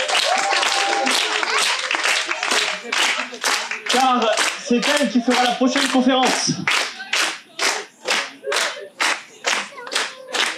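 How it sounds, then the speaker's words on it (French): A theatre audience at an improv show claps in steady applause under someone speaking, then the clapping continues alone in loud, rhythmic bursts. "Applaudissez-la fort."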